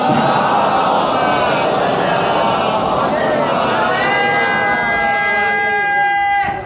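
A crowd at a Shia majlis gathering in an imambargah chants religious slogans in unison, loud and sustained, with rising, wailing voices ringing out together near the end.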